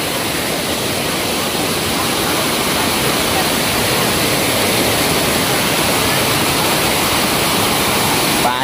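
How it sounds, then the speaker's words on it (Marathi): Forceful water pours over a waterfall in a loud, steady roar of rushing spray that never lets up, close and filling the scene from start to finish. "पाण्याला फोर्सच बघा किती आहे खूप."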